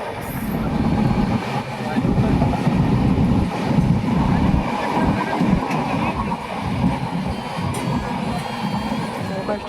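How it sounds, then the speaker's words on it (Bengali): A train pulls out of Asansol station, its steady, loud rumble and rolling clatter filling the whole stretch without a break. "আসানসোল থেকে ট্রেনটি ছেড়ে দিল"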